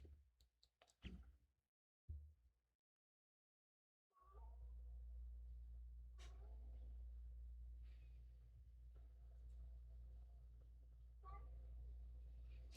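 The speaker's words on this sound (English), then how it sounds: "I know y'all can hear my cat too. She starts meowing" A pet cat meows indoors, giving a few faint, short calls after a brief dropout. A low steady hum runs underneath, and no one speaks.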